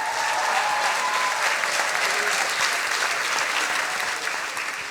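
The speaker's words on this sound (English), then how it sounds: "Please a big applause for Alina Pushkarev." Applause from a science slam crowd welcoming a speaker to the stage, steady and fairly loud throughout, tapering slightly at the very end, with faint voices underneath.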